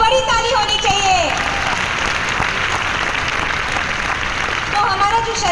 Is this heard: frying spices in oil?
no